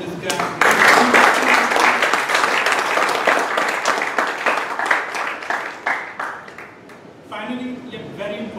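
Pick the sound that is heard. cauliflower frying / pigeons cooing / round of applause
round of applause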